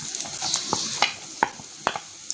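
Onions fried in about three tablespoons of oil in a pan while making chicken spring rolls, a close hissing sizzle broken by several short clicks and scrapes from stirring.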